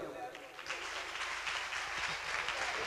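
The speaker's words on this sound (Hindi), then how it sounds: "उतनी देर तक तालियां बजा दें।" Hall audience at a Punjabi comedy show claps steadily and densely throughout, a continuous close wash of hands with a voice faintly mixed in.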